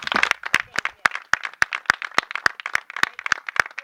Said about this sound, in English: everybody to give themselves a round of applause because everybody did an awesome job